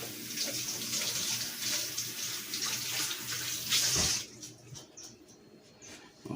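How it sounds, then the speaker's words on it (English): A kitchen tap runs into the sink while hands are washed, a soft steady stream of water that shifts with splashing and then cuts back to quieter trickles. "I'll wash my hands real quick."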